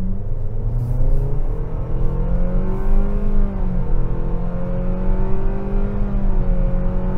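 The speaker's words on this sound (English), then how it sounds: "here's an opportunity to get into the gas" A 2025 Nissan Kicks accelerates from the cabin with a steady, loud engine drone whose pitch climbs and dips in gear-like steps, continuous throughout with no talking.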